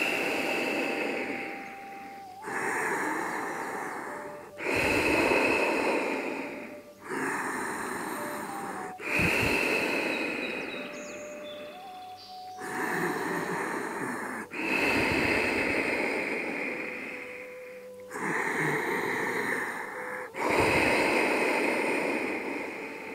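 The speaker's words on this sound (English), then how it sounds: "Breathing deeper, just feel you directly breathing into your brain." Slow, deep yoga breathing during a forward fold, with long airy inhales and exhales repeating about every two to three seconds, close to the microphone, and no talking over it.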